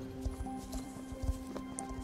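Horse hooves clip-clop steadily on the ground in the online riding game Star Stable, an even walking rhythm of soft, fairly quiet thuds under a low ambient background.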